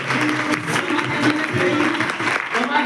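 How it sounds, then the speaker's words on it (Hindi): Audience clapping loudly at a gathering on cue, a continuous dense wash of applause with voices and crowd murmur mixed in. "एक बार जोरदार तालियां"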